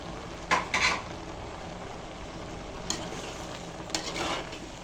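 Data greens cook in a pan with garlic paste, green chilli and salt under a faint, steady sizzle, broken by a few short scraping stirs spaced a couple of seconds apart.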